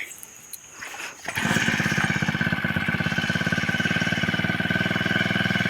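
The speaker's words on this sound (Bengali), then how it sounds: "মেশিন স্টার্ট দেওয়া শুরু হয়ে গেছে এখন এই যে আবার ঘাস কাটবে" A grass cutting machine in an Andaman village field starts up after a faint pull and then runs with a steady, loud, pulsing engine drone.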